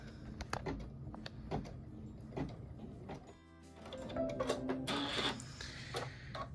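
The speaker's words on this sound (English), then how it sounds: "My machine seems like it is stitching so slow." An embroidery machine stitches a pickup truck quilt block, giving a rhythmic mechanical tapping with irregular pauses, a brief quiet stretch, and a busier clattering burst near the end, heard close and alone.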